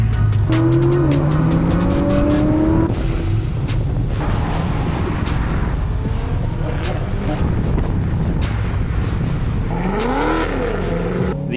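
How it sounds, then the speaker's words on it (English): Cars firing up and pulling away on a rainy sunset cruise in Saskatchewan: loud nearby engines rev and climb in pitch, then a steady roar of several vehicles driving, with another engine revving up near the end. "cars are firing up, so I guess we're going on the sunset cruise"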